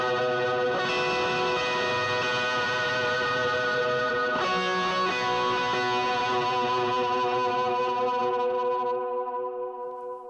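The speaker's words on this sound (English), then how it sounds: "So that intro harmonic line sounds like this." Ringing electric guitar harmonics from the intro of a song are played through a boost, gain drive, reverb and delay. Each bell-like note blooms into long, shimmering echoing sustain that keeps going and slowly fades near the end.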